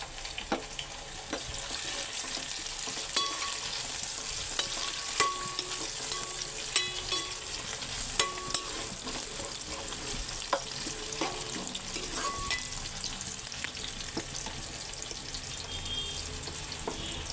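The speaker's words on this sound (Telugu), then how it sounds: "ఉల్లిపాయలు బాగా వేగినాయి ఫ్రెండ్స్ కోసి పెట్టుకుని టమాటా వేసుకున్నాం" Onions and tomatoes sizzle steadily in a pan for prawn biryani, a constant close frying hiss dotted with light clinks and stirring scrapes, no speech.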